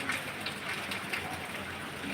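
Heavy rain pours steadily outdoors at Khuian Sarwar, a constant dense hiss of drops with faint patter, with no speech.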